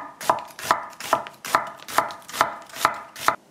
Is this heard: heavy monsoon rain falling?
no